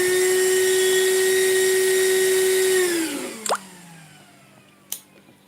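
A small automotive cooling fan rated at 22,000 rpm gives a loud, steady high whine, then winds down with a falling pitch, followed by a couple of sharp clicks.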